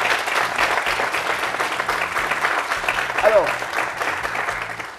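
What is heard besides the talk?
young audience applauding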